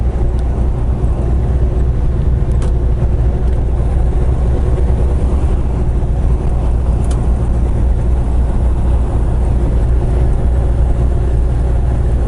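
A car engine and road noise drone steadily inside a vehicle cruising at 64 mph, a dense continuous low rumble with no breaks and no talking.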